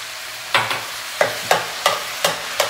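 Peeled tomatoes being stirred and broken up with a utensil in a pot of roasted vegetables for lentil soup, giving six or so distinct wet scraping knocks at an uneven rhythm, close and clear with no talking.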